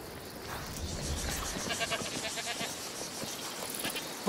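A goat named Tramontan bleats in the video game A Plague Tale: Requiem, a faint cry over a busy ambient bed of background sound, with a brief sharper call near the end.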